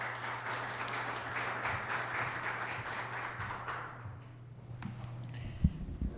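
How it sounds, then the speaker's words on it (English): Applause from an audience at a press conference launching the UN Global Safe Cities Initiative in Winnipeg, a steady dense clapping wash that thins out toward the end, with a low hum beneath it. "So please, a round of applause."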